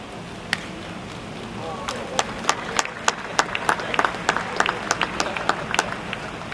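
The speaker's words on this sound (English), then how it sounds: "give them a whale of a round of applause" Scattered clapping from a livestock show audience greeting grand champion cows, starting with a few isolated claps and building into sparse, uneven applause over steady background noise.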